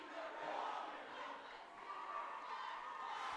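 Cheer squads at a boys basketball game between Shawnee Mission Northwest and South fill a gym with a distant, muffled roar of crowd chanting and shouting. The cheering rises and falls in waves.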